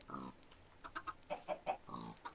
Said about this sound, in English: And the chickens escaped.